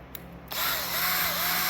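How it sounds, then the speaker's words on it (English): Power drill with a spade bit boring holes through a wooden board, starting abruptly after a brief quiet moment and then whirring loudly and steadily, its pitch dipping slightly as it bites into the wood. "This was the drill for making these holes."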